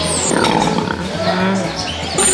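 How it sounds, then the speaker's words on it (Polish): A pig grunts loudly and steadily close by at a farm animal attraction in Scotland, with deep rough continuous grunting and no speech. "Co to świnia robi, Antoś?"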